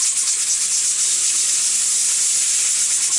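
Steam hisses loudly and continuously from a lidded pot of chicken and dumplings, a bright, even, close-up rush that holds steady without pause.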